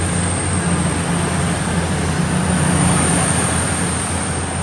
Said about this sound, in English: The 1513 East Midlands Railway service from Nottingham to London St Pancras